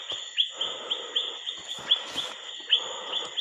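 Repeated short chirping bird calls sound close by in a mountain forest, each sharp and high, coming roughly every half second over a faint, steady forest hiss, with no one talking.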